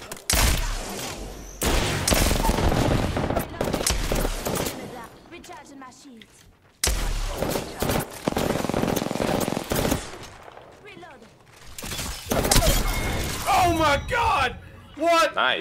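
Rapid gunfire bursts in the video game Apex Legends, loud repeated volleys with brief gaps, while players shout and talk excitedly over the shooting.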